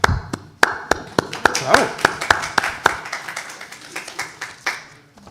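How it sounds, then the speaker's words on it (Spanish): An audience breaks into scattered hand clapping, a series of sharp separate claps that loosen into a looser patter, moderately close, with a brief spoken word over it. "De ahí hay que aplaudir."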